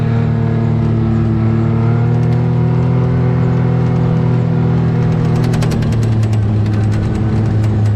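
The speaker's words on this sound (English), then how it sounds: "I hear that saw running over there." A distant saw's motor drones throughout while clearing tree stumps, with a constant whine, rising slightly toward the end, without any talk.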